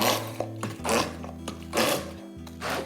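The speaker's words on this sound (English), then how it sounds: "I'm going to just scrape these in here, and then we're going to puree." Kitchen blender pureeing frozen raspberries with caster sugar, a steady whirring motor hum rising and falling in surges as the fruit churns, close and fairly loud.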